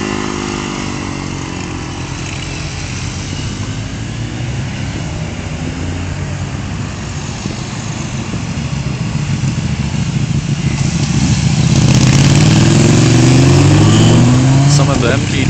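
A BMW K1300 motorcycle on the Stelvio Pass revs as it draws nearer, its engine swelling from a moderate hum to a loud, rising roar toward the end.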